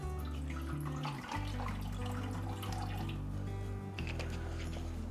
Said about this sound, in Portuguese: é só ir enchendo o copo e ele vai enchendo o aquário lentamente